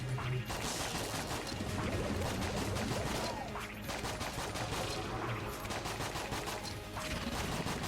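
The SAA revolver firing in Enter the Gungeon, a dense stream of quiet rapid shots and clattering impacts running steadily under game music and effects.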